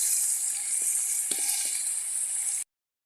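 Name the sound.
goat meat frying with oil, chili and onion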